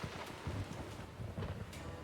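Steady rain hisses through a video game cutscene, with low rumbling gusts swelling and fading beneath a continuous wash of falling water.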